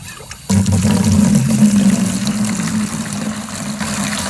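Fresh water gushes from a Woodford yard hydrant on a flower farm into a hanging bucket, starting abruptly and then running steadily with a full, low splashing rush, close up with no talk.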